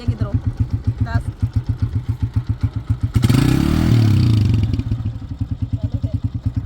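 A motorcycle engine stuck in the water of the Sindh (Indus) river near Layyah chugs in a fast, even idle, close by. Midway it swells into a louder, rough burst of revving and churning before settling back to a steady putter.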